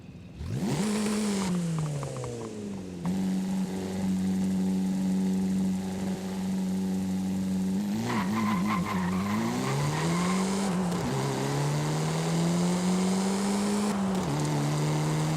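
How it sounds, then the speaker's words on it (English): A stock car accelerating hard uphill from 0 to 100 on a street, the engine note climbing steadily through the gears with short dips at each shift, loud and close throughout, with no talking. "Let me do a 0 to 100 pull and see how does stock perform on the street."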